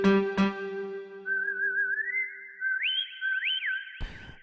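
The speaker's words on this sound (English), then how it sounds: "It says guitar plus vibes and whistle." A Prestige Plus keyboard plays a style voiced with guitar, vibes and whistle: a struck chord opens, then a sliding whistle melody with stepped leaps carries on, ending in a sharp percussive hit.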